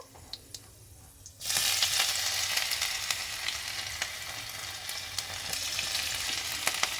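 Five-spice tempering and chopped ginger hit hot oil and start sizzling loudly all at once, a bright, continuous crackle that carries on close up with small pops and no talking.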